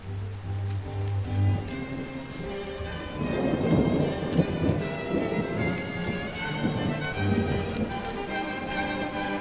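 Thunderstorm with heavy rain: a steady, dense downpour with rolling thunder swelling in the middle and continuing alongside the rain, no voices.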